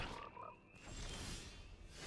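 Faint digital frog croak effect played for the Psychic Frog card in a video card game, a short croak followed by a soft whoosh.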